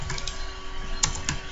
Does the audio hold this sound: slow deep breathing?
no